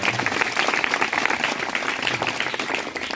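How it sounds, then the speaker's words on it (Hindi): A crowd of parents and guardians at a school prize ceremony gives loud applause for the new school principal, a thick, continuous wash of many hands clapping close and full throughout. "आप हमारे प्रिंसिपल महोदय के लिए एक बार सभी जोरदार तालियां दें"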